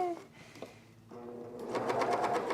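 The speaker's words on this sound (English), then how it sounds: "I'm using 2 threads in each of these needles to make the top stitching really pronounced." Short bursts from a sewing machine top-stitching pants with two threads in each needle, a few hesitant starts and then a quicker, louder run of stitching close by.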